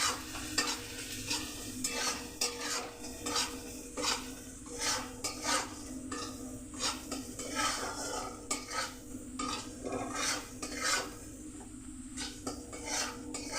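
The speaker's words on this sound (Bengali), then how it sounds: "এবার এটাকে ভালো করে একটু কষিয়ে নিতে হচ্ছে" Spices including coriander and cumin being sautéed in a pan for tadka, with a gentle sizzle beneath repeated scraping and tapping of a spoon against the pan, irregular and close, with no one talking.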